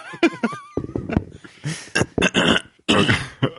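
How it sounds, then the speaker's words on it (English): Several rough throat-clearing grunts and coughing sounds, close and loud, in short irregular bursts. "I keep clearing my throat"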